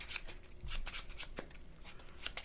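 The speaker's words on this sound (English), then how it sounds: "I can't tweet and shuffle my hand at the same time." A hand of Pokemon TCG cards being shuffled at a tabletop game, with rapid, even riffling flicks close by and only a little background noise.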